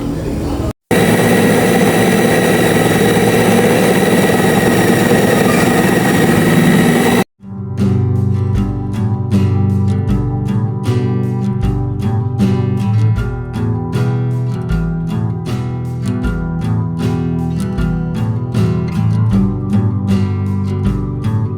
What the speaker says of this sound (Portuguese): Então eu vou colocar aqui mais do que a metade na batedeira.